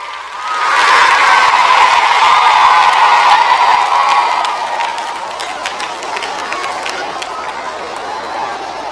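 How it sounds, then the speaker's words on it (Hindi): A large crowd at a Bageshwar gathering welcomes the Prime Minister with loud, sustained applause and cheering, which swells in the first seconds and then eases slightly while staying dense and continuous. "जोरदार ताली बजा करके हम सब पूरा बागेश्वर परिवार स्वागत करें।"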